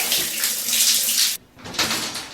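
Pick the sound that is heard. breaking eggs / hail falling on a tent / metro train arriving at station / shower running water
shower running water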